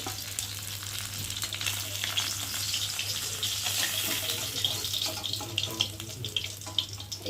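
Tilapia fish frying in oil in a pan, a dense, steady sizzle close by with scattered spits and crackles over a low, constant background hum.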